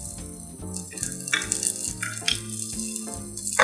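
Mustard seeds crackling and popping in hot oil with fenugreek seeds and sliced onion or shallots for Kerala-style moru curry, a steady close sizzle dotted with quick irregular pops and rattles.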